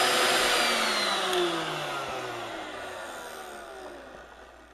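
KitchenAid stand mixer motor whirring steadily and loudly, its pitch sliding gradually as the speed changes, with the level easing off slightly toward the end and no talk.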